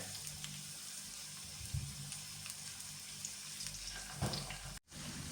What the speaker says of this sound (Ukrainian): на такому середньому вогні смажемо з усіх сторін